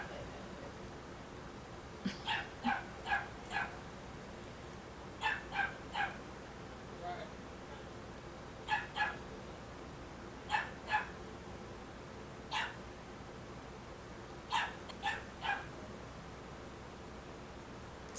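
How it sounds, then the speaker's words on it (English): A dog barks in short clusters of two to four sharp yaps, repeating every few seconds at moderate distance over a quiet background. "every time I talk she start barking"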